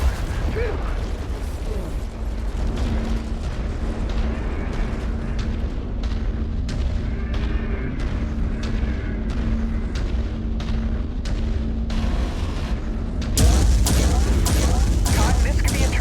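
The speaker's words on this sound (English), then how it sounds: "Ammo cage just erupted." An ammo cage exploding in MechWarrior 5, heard as a dense continuous roar of blasts and mechanical rumble that swells louder near the end, with a voice talking over it.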